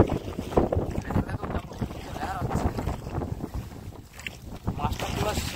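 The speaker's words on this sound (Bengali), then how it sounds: "অনেক লেয়ার হয়েছে, বর্ষা হয়েছে, ঝড় হয়েছে।" Gusty storm wind blows over rough water during traditional hook fishing from a boat, roaring and buffeting unevenly in waves, with voices speaking under the noise.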